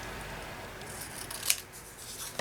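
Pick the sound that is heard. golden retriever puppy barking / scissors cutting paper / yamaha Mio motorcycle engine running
scissors cutting paper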